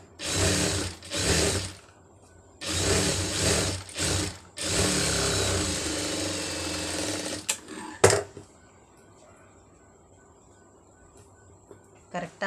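Sewing machine stitching along a folded cloth edge, several loud steady runs of rapid mechanical whirring separated by short pauses, with brief talk near the end.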